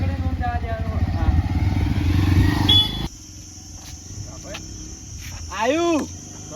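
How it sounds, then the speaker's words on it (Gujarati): A motorcycle engine rumbles loudly nearby for about three seconds as the bike arrives, then cuts off, leaving chirping crickets and faint clatter, with a brief voice near the end. "બધે એ બાઈક આયુ"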